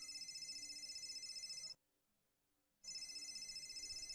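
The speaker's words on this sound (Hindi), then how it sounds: "लेकिन तभी जेराल्ड का फोन बज उठा।" A phone ringing in a clown crime story, an electronic ring tone repeating in two bursts separated by a brief silence, steady and moderately faint, with no talk over it.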